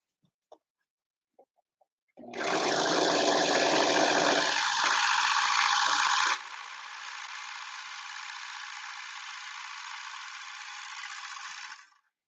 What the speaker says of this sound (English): I'm just gonna go to my serger over here real quick and serge some of these raw edges.